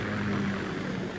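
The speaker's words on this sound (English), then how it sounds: "Kasatka? Kamov chopper, right?" A Kamov Ka-60 Kasatka helicopter from the Metal Gear Solid 2 video game gives a loud, continuous engine and rotor drone with a steady low hum, and no voices are heard.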